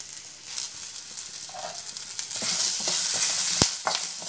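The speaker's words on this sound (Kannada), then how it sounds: "ಒಂಚೂರು ಎಣ್ಣೆ ಪಾಡ್ದು ನಮ್ಮನೇನು ಫ್ರೈ ಮನ್ಪುಗ" Onion, ginger and turmeric frying in oil in a pan, a steady sizzle with occasional stirring scrapes and one sharp clink, growing a little louder partway through with no voices.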